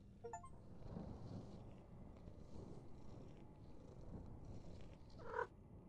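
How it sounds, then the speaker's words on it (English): A cat in a video game purrs in a low, steady, faint rumble for several seconds as it is petted, with a brief light chime at the start and a small clink near the end. "Aw, kitty, we can pet the kitty?"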